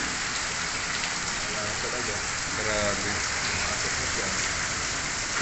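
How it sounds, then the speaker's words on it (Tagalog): Heavy rain pours steadily during typhoon flooding, a dense continuous hiss close by, with a person briefly exclaiming over it. "Tapos lumalakas na naman yung ulan."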